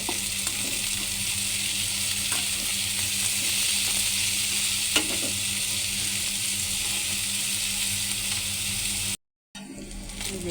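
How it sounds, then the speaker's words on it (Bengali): Steady, loud sizzling of dried fish frying in oil with onions in a home kitchen, a continuous hiss with occasional stirring clicks and a brief gap near the end. "আমি শুটকি তেলের উপরে ভাজবো,"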